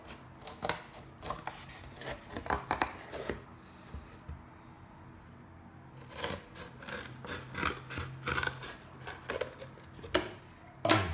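Scissors cut a small piece of cardboard up close, a series of crisp snips and crunching cuts in bursts with short pauses between.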